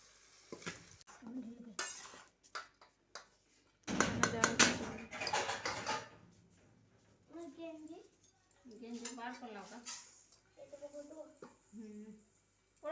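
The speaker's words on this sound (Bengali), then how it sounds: "তো এইগুলোকে মানে ভাতগুলোকে এখানে দিচ্ছে তেলের মধ্যে" Cooked rice tipped into hot oil for homemade fried rice, a sudden loud burst of sizzling with clattering spoon and pan scrapes, set among intermittent talk from adults and a child.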